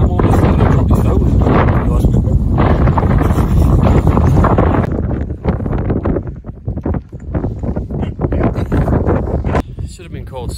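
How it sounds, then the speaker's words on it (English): Gusty wind roars across an exposed hilltop near Buxton in the Peak District, loud and buffeting the microphone for the first few seconds, then easing into uneven, fluttering gusts. "It's really a bit windy up here."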